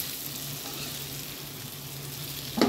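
Red Byadgi chilli powder and spices being stirred in a frying pan give a steady, close sizzle, with a louder scrape or burst of frying at the very end.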